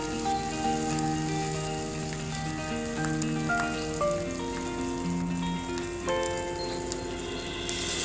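Coconut and nut paste fries lightly in a pan for a spicy masala duck curry, giving a soft, steady sizzle that runs for the whole stretch beneath melodic background music, with no talking.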